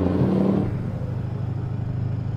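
A heavy truck engine in the driving game Euro Truck Simulator 2 rumbles steadily and loudly, a deep continuous drone with a brief rise at the start, with no talk over it.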